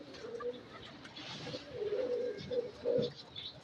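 Domestic pigeons kept by a fancier coo in soft, repeated low murmurs, moderately near, over a steady outdoor background hiss.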